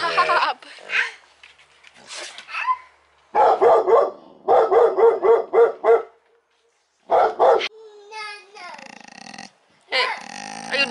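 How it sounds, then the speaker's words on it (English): A dog barks in short bursts and rapid strings of yaps, with pauses of quiet between, close and fairly loud, alongside a person's voice. "So that crazy barking dog is what we deal with constantly"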